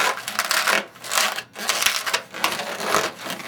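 A latex balloon squeaks and rubs in close, loud bursts as it is twisted into a pinch twist, in several squeaky waves with short pauses between them.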